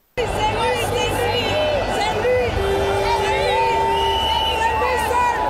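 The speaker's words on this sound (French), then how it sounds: "sous les acclamations d'une population liesse" Outdoor crowd at a presidential swearing-in ceremony, a dense roar of cheering, shouting and chatter with whistles and a sustained horn-like tone, loud and unbroken throughout.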